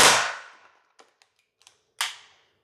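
A gel blaster with a weakening battery is dry-fired, giving two sharp, loud mechanical snaps about two seconds apart, with a few faint clicks between them.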